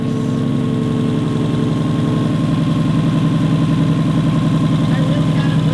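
A Subaru STI engine runs steadily with a throbbing, pulsing idle-like rumble as the car creeps along under its own power, loud and close, with voices talking over it.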